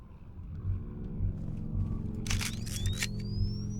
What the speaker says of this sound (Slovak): Dobre, máme foťák. Vyfotím tu Ronalda.